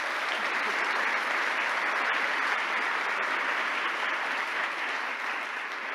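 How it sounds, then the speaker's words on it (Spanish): An audience at a Hispanic American short-story prize ceremony claps steadily for the five finalists, a dense, even wash of applause that holds for the whole stretch and eases slightly toward the end. "Un fuerte aplauso para nuestros 5 finalistas."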